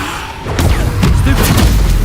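Spell-casting effects from the Hogwarts Legacy video game: a string of booming, crashing magical blasts and whooshes layered loudly over a rumbling low-end backdrop, with sweeping bursts recurring every half second or so.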